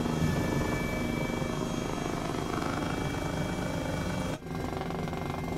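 A Sikorsky H-34 helicopter in a flight simulator game winds down after its fuel is cut, a loud steady engine and rotor drone with a brief dip near the end, no voices.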